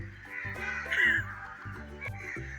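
Crows caw repeatedly in the evening, a steady run of harsh calls at moderate distance with no talk over them.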